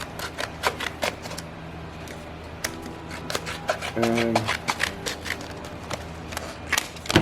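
Crisp, repeated snipping of scissors cutting through stiff paper plates, irregular cuts close by, with a brief voice in between.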